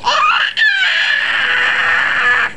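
A young boy toddler screams loudly and shrilly, holding the sustained, high-pitched cry for about two and a half seconds with one short break near the start.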